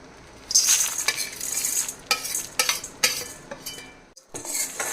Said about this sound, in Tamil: இப்போ எல்லாத்தையும் சேர்த்து வறுத்துப்போம்.